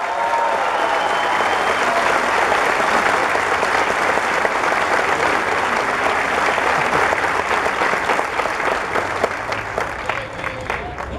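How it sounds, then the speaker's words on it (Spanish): A large crowd at a national political party congress in Mexico applauds loudly and continuously, a dense roar of clapping that stays level for about eleven seconds with a few faint voices mixed in. "Un aplauso para la prensa independiente de México."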